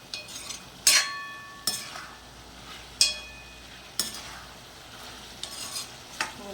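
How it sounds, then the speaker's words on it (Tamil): A spoon scrapes and stirs chicken chintamani in a pan on the stove, with sharp repeated strokes about once a second over a faint steady sizzle, close and without talking. "இப்போ ஃபுல்லாக ஒரு கிளறிடுவோம்."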